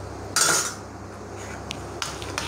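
Fried bitter gourd pieces tip into a pan, a bright clatter of utensil against metal followed by a few lighter clinks over a quiet background hiss.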